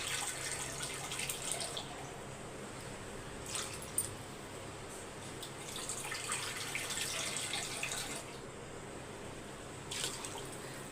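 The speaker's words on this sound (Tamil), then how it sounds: "இதுலயே ரெண்டு கப்பு தண்ணி ஊற்றிக்கலாம்" Two cups of water pour steadily into a cooking pot with a continuous splashing rush, close by, with no talking.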